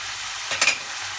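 A brief sizzle and stir of spices and tomato paste sautéing in a pot, a short hissing burst over a quiet background.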